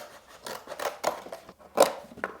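Scissors snip through a cardboard box in a handful of quick, close rasping cuts with short pauses between them, heard alone without talk.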